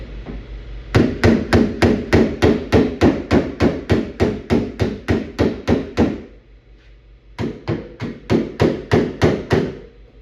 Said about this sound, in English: I'm lifting the door up. I'm using the weight of the door with my hammer